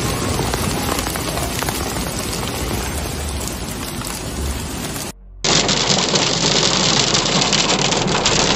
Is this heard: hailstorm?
yes